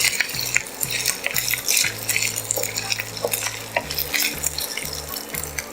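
Dal and ginger frying in a pan for South Indian curd rice, a steady sizzle under repeated scraping strokes of a spoon against the pan, close and busy, no talk.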